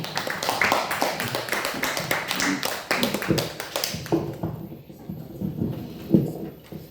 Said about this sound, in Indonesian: Kasih tepuk tangan yang meriah.